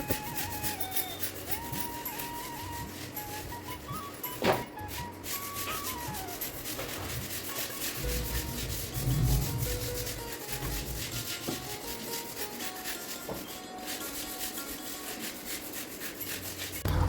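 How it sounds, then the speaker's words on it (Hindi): A brush scrubs a greasy kitchen cooking area with detergent powder, steady rough rubbing strokes running continuously with an occasional knock, close and moderately loud with no talking. "थोड़ा सा सर्फ डाल के अच्छे से ब्रश से रगड़ेंगे, ताकि जितनी भी चिकनाई हो वो निकल जाए"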